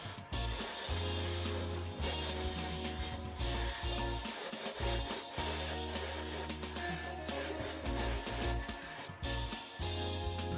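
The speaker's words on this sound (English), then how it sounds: "it's time to part it off. For this, I'm using a freshly sharpened 1/8 parting tool." A freshly sharpened 1/8 parting tool cuts into a woodturned segmented mosaic vase spinning on a lathe, making a steady, close scraping and rasping with a low rumble that swells and dips throughout.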